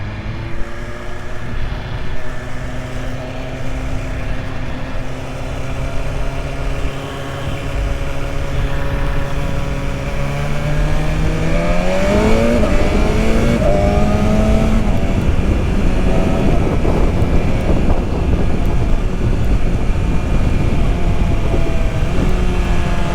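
A 2021 BMW S1000RR motorcycle under way, its engine droning loud and close, rising in pitch as it accelerates and briefly dropping through a smooth gear change before climbing again.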